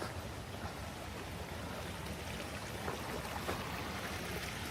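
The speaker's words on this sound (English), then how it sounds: "I hear our little creek." Small creek in Central Park flowing with a soft, steady broadband wash, faint and somewhat distant, with quiet city ambience around it.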